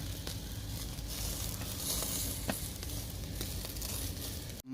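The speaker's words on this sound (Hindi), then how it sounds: "जैतून का तेल हम लोग इसके ऊपर डाल रहे हैं" Barbecue chicken sizzles steadily on a grill after olive oil is poured over it, a continuous close hiss with small crackles throughout and a sharp clunk right at the end.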